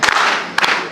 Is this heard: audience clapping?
yes